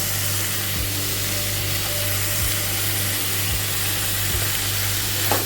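Chicken mince with green chillies frying in a pan, a continuous soft sizzle under a low steady hum, with a few faint clicks and scrapes along the way.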